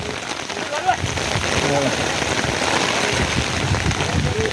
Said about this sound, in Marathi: पाऊस आला जरा दोन मिनटं येतो आणि परत जातो